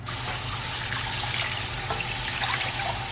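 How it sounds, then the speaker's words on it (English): About three cups of water pour steadily into a pot holding jasmine rice, a continuous close splashing trickle lasting a few seconds. "And then 3 cups of water."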